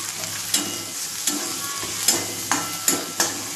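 Spoon stirring red chili powder and salt into a sizzling frying mixture for pasta, with sharp scraping strokes against the pan at a steady rhythm over continuous close frying hiss.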